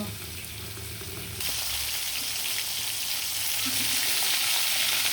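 River rohu fish fries in a pan alongside eggplant, with a continuous hissing sizzle that jumps louder partway through and holds steady and close.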